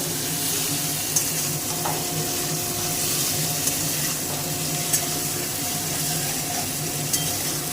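Oil sizzles steadily in a pan for a bottle gourd and shrimp dish, a constant close frying hiss with a few light utensil taps scattered through it.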